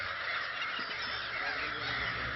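Gulls calling at their nesting area in Ranya during the breeding season, forming a dense, continuous chorus of many birds that stays steady and fairly loud throughout.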